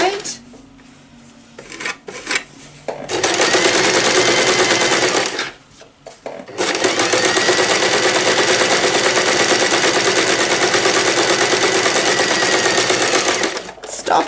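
Sewing machine stitching the side seam of a reusable drawstring bag with a half-inch seam allowance: a short stuttering start, then a long fast steady whir of needle strokes, a brief pause, and another long run.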